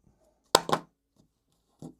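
Magnus MagLab Plain Jane hex zirconium fidget slider snapping in two quick close metallic clicks, followed by a softer single click a moment later, loud and near against silence.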